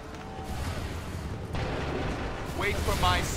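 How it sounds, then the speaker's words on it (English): Musket volley gunfire in Assassin's Creed 3 bursts as a heavy rolling boom midway, with battle noise and shouted voices layered over the rumble. "Wait for it. Hold fire. Open fire."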